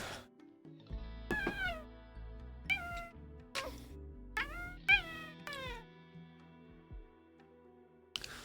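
A pet cat named Tachyon meows repeatedly, about six or seven rising-and-falling calls spaced across a few seconds, close and clear in a quiet room, with a final short meow at the end.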